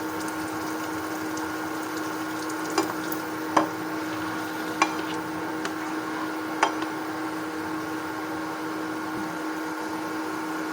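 Vegetables sautéing in a pan while being stirred: a steady, close sizzle with a few soft scrapes and clinks of the utensil.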